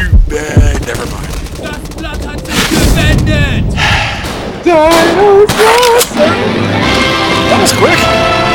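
Gunfire in the video game Dino D-Day, with loud cracking shots, heavy booming impacts and crashes in rapid bursts, mixed with music and other game effects.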